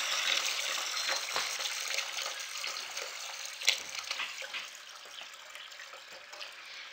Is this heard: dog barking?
no